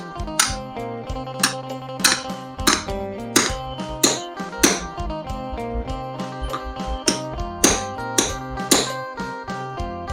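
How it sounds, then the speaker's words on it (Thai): A bamboo rocket casing is tamped by hand, about a dozen sharp, ringing knocks at an irregular pace, each with a short resonant ring. "ตอกเป็นคอประมาณนึงครับ"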